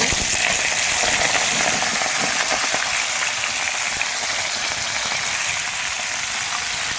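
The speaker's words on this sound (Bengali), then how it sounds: "এবারে আমি কচু পুঁই শাক দেখেন আমি ঢেলে দিচ্ছি।" Taro and pui greens go into a hot pan where fish has just fried, giving a loud, steady, hissing sizzle that holds evenly throughout.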